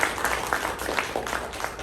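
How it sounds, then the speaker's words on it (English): Audience applause at a live performance in a library, a steady wash of many hands clapping at moderate volume for about two seconds, with no talking over it. "give you guys a round of applause for being here"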